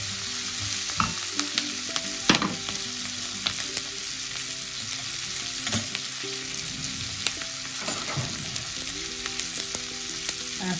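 Cabbage and potatoes with turmeric being stirred in a frying pan: a steady sizzle with repeated scraping spatula strokes and occasional clinks against the pan, close and continuous.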